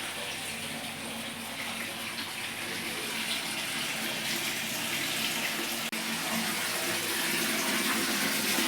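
A tap runs steadily in a home while a child plays in the water, giving a continuous, fairly loud rush with a faint background voice.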